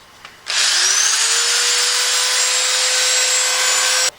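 A power sander works over a wooden bowl during wood repair, scuffing the whole surface evenly; a steady, loud broadband whir starts abruptly and runs continuously for several seconds before cutting off, with no talk.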